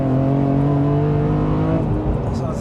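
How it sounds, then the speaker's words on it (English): A 2003 BMW M3 CSL accelerating hard, its intake roaring with a strong rising harmonic howl close up, then easing off near the end as a voice speaks over it. "And that's just induction sound."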